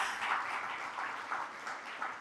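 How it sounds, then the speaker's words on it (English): An awards-ceremony audience keeps up a soft, even round of clapping for the jury, heard from a distance with a steady texture throughout. "Another round of applause for our jury"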